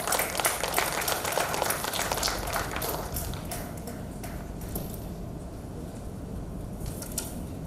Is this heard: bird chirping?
no